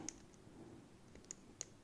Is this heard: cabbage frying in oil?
no